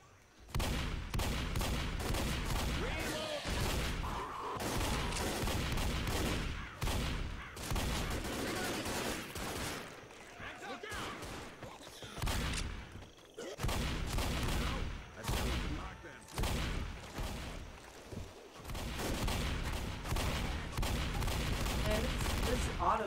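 Shotgun fire in Left 4 Dead, rapid dense blasts and continuous gunfire filling the whole stretch, loud and close, with voices talking underneath.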